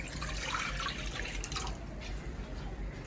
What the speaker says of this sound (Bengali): এখন আলুগুলো হালকা সিদ্ধ করার জন্য প্যানে দিয়ে দিব সামান্য পানি।